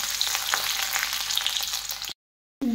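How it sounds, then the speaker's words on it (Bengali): Cumin seeds and garlic frying in hot oil give a dense, close crackling sizzle that runs steadily, breaks off into a short silence, then resumes briefly. "জিরে আর রসুন ভালো করে ভাজা হয়ে গেছে,"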